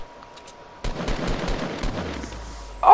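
Rapid gunfire erupts in Fortnite Battle Royale, a dense burst of shots that follows a quiet start and runs on for a couple of seconds before ending in a sharp loud hit.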